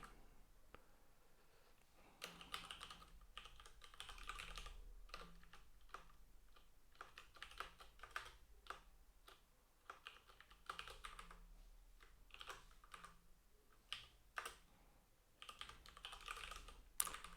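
Steady typing on a computer keyboard runs throughout, with irregular bursts of soft key clicks and occasional louder taps, close and fairly quiet with no voices.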